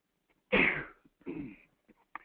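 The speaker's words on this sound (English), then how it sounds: "It is very difficult to sneeze on a webinar and get away with it" A person sneezes during an online webinar, a sharp close burst followed by a softer second exhalation and a few small mouth noises, with no talk.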